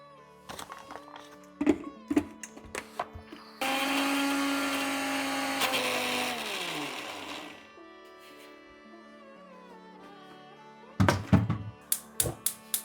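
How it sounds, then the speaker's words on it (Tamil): A mixer grinder whirs steadily for about four seconds, grinding spice paste with frozen grated coconut, then spins down. Before and after, sharp clunks and knocks come from the jar and lid, close and distinct. "இதில் கொஞ்சம் தேங்காயும் போட்டு நான் இப்போ அரைக்க போகிறேன்"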